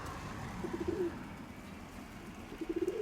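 Soft pigeon coos come in two short bursts, one early and one near the end, over a quiet, faintly rumbling background.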